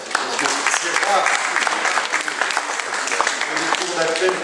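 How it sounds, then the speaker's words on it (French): At a conference, the audience applauds a guest, the president of a court of appeal. Dense, even clapping fills the room for a few seconds with some voices mixed in. "on peut l'applaudir d'ailleurs"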